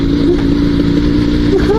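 A Dnepr sidecar motorcycle engine at full throttle with one cylinder misfiring, a loud rough uneven drone, with someone talking over it throughout.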